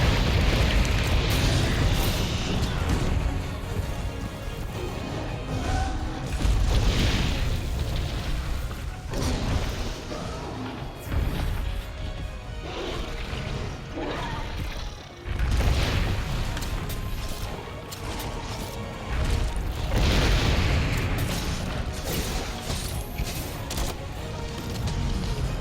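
Explosions in Monster Hunter World go off loudly and almost continuously, heavy booms and crashing impacts layered with battle noise, swelling and dipping in waves throughout.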